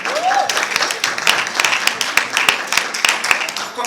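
Audience members clap together at a Great Gatsby-themed finale dinner, a dense burst of fairly loud applause that carries on for a few seconds.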